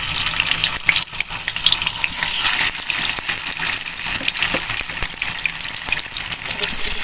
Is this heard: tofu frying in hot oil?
yes